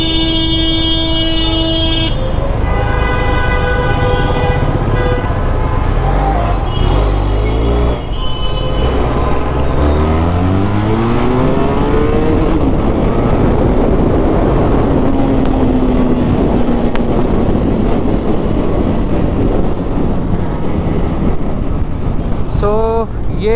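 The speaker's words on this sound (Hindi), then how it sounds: "ये स्टॉक साउंड था अपने TRK का। सो स्टॉक साउंड भी बुरा नहीं है।" A Benelli TRK 502 motorcycle with stock exhaust revs repeatedly, its pitch rising and falling in sweeping bursts, loud and close, with a steady running drone in between.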